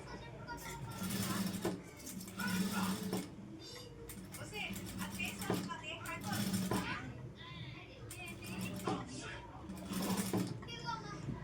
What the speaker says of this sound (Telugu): నెక్ రౌండ్ దగ్గర మటుకు చాలా స్లోగా కుట్టాలి పైపింగ్ అనేది